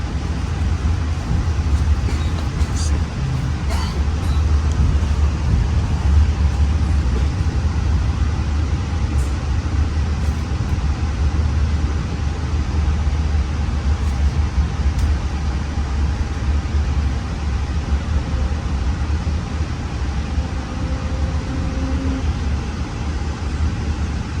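Biru Malam, Indonesia's oldest passenger train, departs Solo Balapan station at night with a continuous low rumble and steady rolling roar, heard from inside the carriage, without pause.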